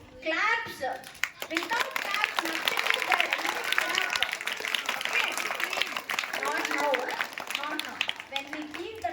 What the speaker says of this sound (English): So you should clap, sir.